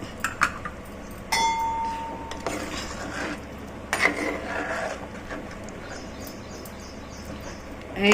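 Fish pieces being stirred in a pot for a simple fish curry, giving sporadic metallic clinks and scrapes of a spoon against the vessel, a few sharper knocks standing out over a steady low background.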